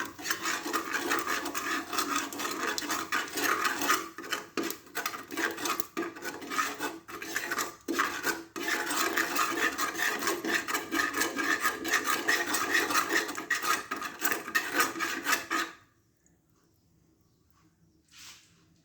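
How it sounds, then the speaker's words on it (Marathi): Sorghum (jowar) grains with turmeric are stirred in a pan over a low flame, giving a continuous rough, rasping scrape of grains against metal that pulses with each stroke, then stops abruptly, leaving near silence. "आपल्याला जेवारी चांगली हलवायची"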